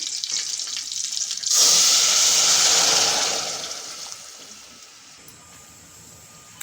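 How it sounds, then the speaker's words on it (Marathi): Tap water gushes into a heated cooking pot that already holds oil and cumin, a loud splashing hiss that starts suddenly and then tapers off gradually. "आता मी यात टाकते पाणी"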